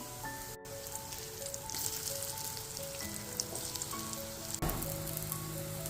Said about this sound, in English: Also frying some of them in a pan.